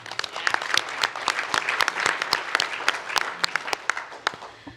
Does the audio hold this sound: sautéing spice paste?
no